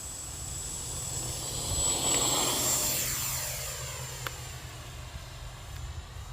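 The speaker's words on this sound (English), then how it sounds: "let's get this plane up in the air for flight number 2." A Freewing 70mm F-16 RC jet plane takes off, its ducted-fan whine swelling loud as it passes close, then easing off as it climbs away with a sharp tick near the end.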